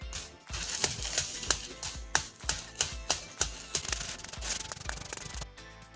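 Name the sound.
rolling pastry dough thin between parchment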